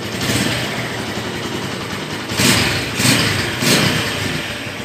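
A 2011 Honda Tiger Revo motorcycle engine idles steadily, then revs up in three short bursts with a faint high whine, close and loud, with no talk.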